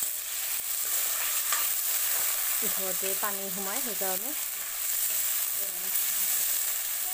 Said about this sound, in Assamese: মাংসখিনি প্ৰথমতে মই এনেই ভাজি লৈছোঁ